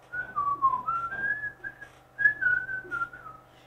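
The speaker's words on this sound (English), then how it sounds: "So if I'm whistling," A person whistles a wavering melodic tune nearby, two short phrases of sliding notes separated by a brief pause, clear over a quiet background.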